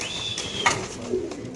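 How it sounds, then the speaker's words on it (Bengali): Soft, low cooing of a pair of racer pigeons held for sale, close and fairly quiet, with a couple of brief coos over faint background noise. "এখানে আছে এক জোড়া কবুতর মাশাআল্লাহ"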